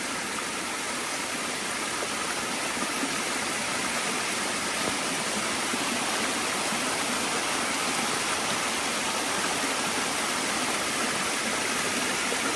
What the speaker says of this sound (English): It's gushing more because of our rain.